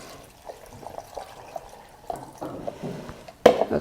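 Two cups of water pour into a cooking pot in a kitchen, a faint, soft splashing trickle with a few louder sloshes toward the end, no talking.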